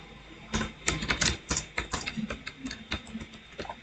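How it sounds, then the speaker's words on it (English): Typing on a computer keyboard while coding at a desk, a steady run of close, uneven key clicks and taps over faint room hum, with no talking. "Today my keyboard feels slow. Like my typing feels slow."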